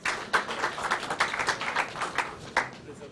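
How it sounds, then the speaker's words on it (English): A modest audience at a European business angel congress claps to welcome a pitch presenter, with distinct individual claps in an uneven rhythm, fairly faint and spread through the room. "Give him an applause."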